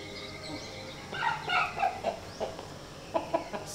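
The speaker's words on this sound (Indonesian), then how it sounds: "Kenapa ada ayam itu?" A pet chicken clucks in a series of short, bright calls close by, bunched in quick bursts over a quiet background.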